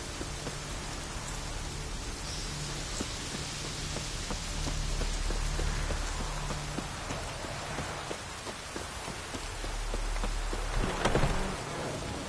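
Steady rain hisses throughout in The Witcher 3: Wild Hunt, with a low rumble underneath and scattered drips, rising briefly near the end.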